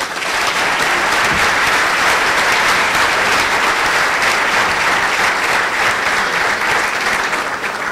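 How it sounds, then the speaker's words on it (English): Loud, dense round of applause from a luncheon crowd at a scholar-athlete event, steady and sustained throughout with no pauses. "Let's give him a round of applause."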